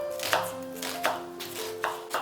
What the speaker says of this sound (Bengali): তার জন্য এটাকে আমি একটু বড় করে কেটে নিচ্ছি।